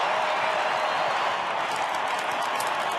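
A large AFL finals football crowd roars steadily for a Fremantle Dockers goal against Port Adelaide, a dense wash of cheering and applause that holds at full strength without a break.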